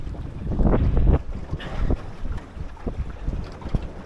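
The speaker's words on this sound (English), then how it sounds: "The wind is building" Wind gusts buffet the microphone on a small boat out among moorings, with rumbling bursts and water sounds rising and falling, close and fairly loud, with no speech.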